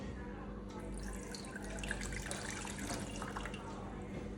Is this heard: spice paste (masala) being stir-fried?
no